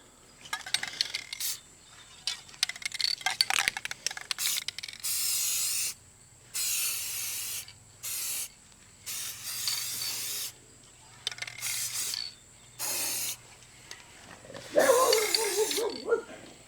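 Repeated bursts of spray as a coating is applied to the tracks of a Lymow One robot mower, about eight separate hissing passes of a second or two each with short gaps, close and fairly loud, with brief faint rustling between.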